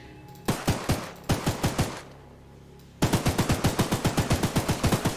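Mounted guns on the gunning platform in Choo Choo Charles fire rapid, loud bursts: two short volleys, a brief pause, then a long sustained stream of evenly spaced shots.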